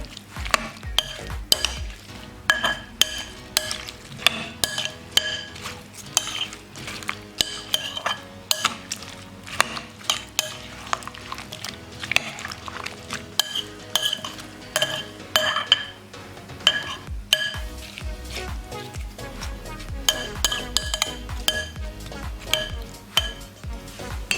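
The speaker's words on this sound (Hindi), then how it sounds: "दोबारा से इसे अच्छे तरीके से मिक्स कर लेंगे" Fruit chaat is stirred and tossed in a bowl with a spoon: a dense, steady run of clinks, taps and soft scrapes against the bowl that continues throughout without any talking.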